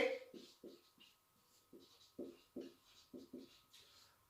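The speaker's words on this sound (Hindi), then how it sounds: "तो यहां लिखेंगे" Chalk or marker strokes on a board during a physics class, a series of short scratchy bursts in an uneven rhythm with brief pauses, faint and close, with no talking over them.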